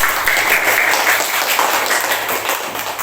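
Classroom applause from a group of students, a dense burst of clapping close by that lasts a few seconds without a break.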